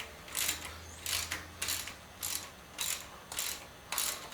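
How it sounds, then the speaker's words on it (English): Ratchet wrench tightening a rocker arm on a small-block Chevy 350 V8 engine during a rebuild: about seven short bursts of close, crisp ratcheting clicks in a steady rhythm, with no talking. "this rocker arm is still loose. I'm going to go ahead and tighten that up while spinning this push rod."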